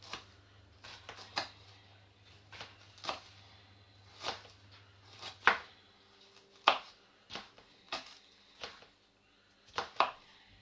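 Chili peppers chopped with a knife on a board in a home kitchen, a run of irregular, sharp, close knocks with short pauses between them, quiet overall with no voices.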